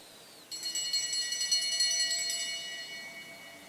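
A single bell rings for the final lap of a track cycling sprint race in Brisbane, struck once with a clear, bright metallic tone that hangs and slowly fades over a few seconds.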